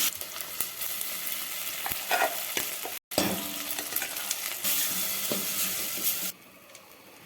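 Brinjal sizzles steadily in hot oil for tempering, a loud continuous fry with stirring scrapes, a brief dropout midway and a softer sizzle near the end.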